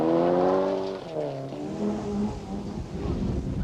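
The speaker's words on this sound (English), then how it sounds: "Here's Coen, Vink, Mitsubishi Galant" A Mitsubishi Galant rally car on a special stage of the 1992 ELE Rally revs hard with rising and falling engine tones, fairly faint and distant, shifting gears as it passes.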